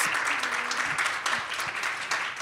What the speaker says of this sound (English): can we have a quick round of applause for our incredible panel and our first push campaign women-centered care champions?